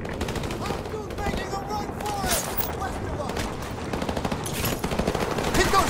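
Sustained battlefield gunfire in Call of Duty 4: Modern Warfare Remastered, dense rapid rifle and machine-gun bursts mixed with shouted voices, loud and continuous throughout.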